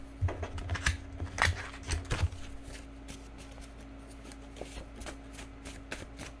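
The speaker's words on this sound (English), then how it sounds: "let's now shuffle these cards." Tarot cards are shuffled by hand at close range in quick, crisp riffles and soft slides, busier at first and then lighter, papery taps, with no talking.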